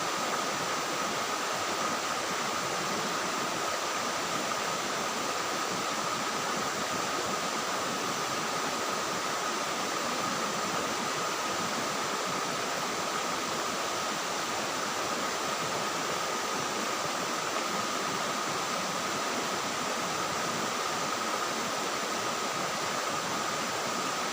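A waterfall in Indonesia during the dry season gives a steady, even rushing roar that holds at a constant level throughout, with a faint steady high tone riding above it and no voices.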